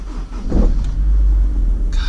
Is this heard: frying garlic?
no